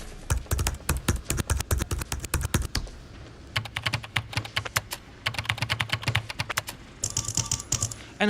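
Keyboard buttons pressed in quick bursts to trigger scratch sounds during a livestream concert, a rapid uneven clatter of taps with a short pause midway and a brighter scratchy burst near the end, no talking.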